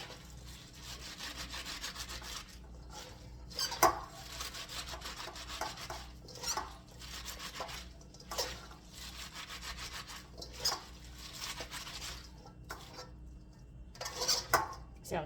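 Shredded cabbage rubbed and squeezed together by hand for sauerkraut, making a wet, crunchy friction in repeated rhythmic bursts with a few sharper squeaks, close and moderately loud.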